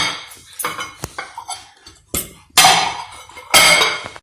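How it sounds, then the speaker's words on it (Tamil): A steamed banana cake cooked on a leaf lining is turned out onto a plate, giving close, loud clinks and clatters of cookware and dishes in several separate bursts. "இது அப்படியே பிளேட்டில் நம்ம வந்து அப்படியே போட்டுடணும்"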